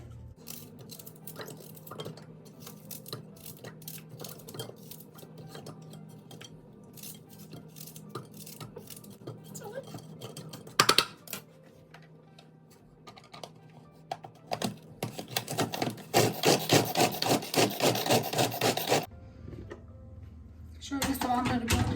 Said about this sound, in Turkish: bu alet var ya çok iyi çekiyor soğanları küçücük yaptı